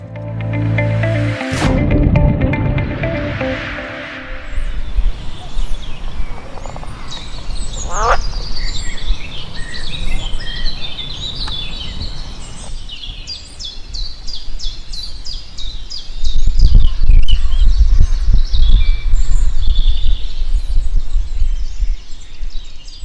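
Wetland birds call and chatter in a dense chorus of chirps, quacks and croaking notes, with a loud rumble at the start and heavier low noise later beneath the busy calls.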